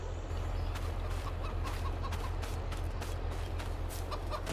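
Chickens clucking in the Farming Simulator 22 video game, soft repeated clucks over a steady low engine-like hum, continuing evenly without talk.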